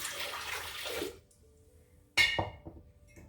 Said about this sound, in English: I'm gonna put a cup of water because we're measuring today